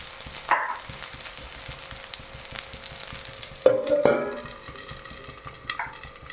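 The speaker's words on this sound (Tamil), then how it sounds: "எல்லாம் வதங்கட்டும்." Eggplant and spices sautéing in hot oil in a pan, with a steady continuous sizzle and a few clinks and scrapes of a stirring utensil against the pan.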